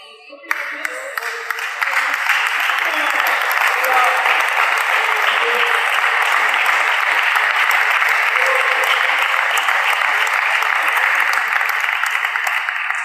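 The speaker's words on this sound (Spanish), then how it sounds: "Tal vez ahorita va a tener que devolver los aplausos" Sustained applause from a church congregation, building quickly after a brief sharp start and holding steady and loud for over ten seconds as one dense wash of clapping hands.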